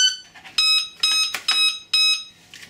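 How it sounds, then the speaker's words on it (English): An electronic speed controller on an E-Flite Carbon Z Yak 54 model airplane chirps a series of loud, evenly spaced tonal beeps after a 4-cell battery is connected, with no talk over them. "There's the 4 beeps for the 4 cells."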